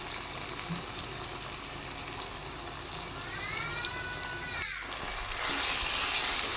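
Lote (Bombay duck) fish frying in a spice masala, a steady dense sizzle throughout with a brief bright squeak near the end and the sizzle swelling louder in the last second.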